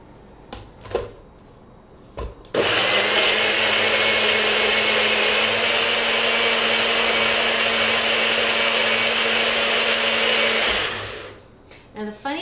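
A countertop blender whirring at high speed through a raw dressing of nuts and fruit, starting abruptly after a few clicks and handling sounds, running loud and steady for about eight seconds, then spinning down.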